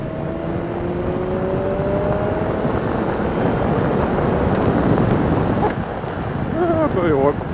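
A BMW S 1000 XR motorcycle being ridden, its engine droning under heavy rushing wind noise with a rising whine early on and a short burst of revving near the end, heard from the rider's position.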